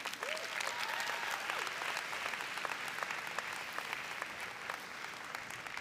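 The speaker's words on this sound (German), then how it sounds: "Und deshalb einen großen Applaus von euch bitte mal für diese drei Gäste." A crowd claps steadily and fairly close for a few seconds, with occasional cheers and whoops rising above the dense applause.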